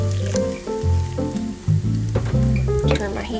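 Potatoes fry and sizzle in a pan during a Southern sausage gravy and biscuit breakfast, a close, constant crackling hiss running beneath steady tonal sounds that swell and fade.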